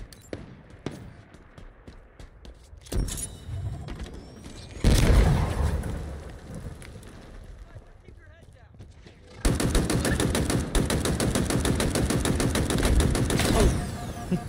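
Halo multiplayer gunfire: scattered single pistol shots early, then a heavy blast and a long sustained burst of rapid automatic fire, loud and close.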